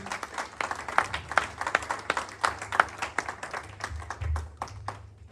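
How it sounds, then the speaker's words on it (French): A church congregation applauds during a Sunday service, steady rhythmic clapping from many hands that stays fairly loud throughout, with a low rumble beneath and no talk over it. "Est-ce qu'on peut acclamer le Seigneur? Wir für den Herrn klatschen."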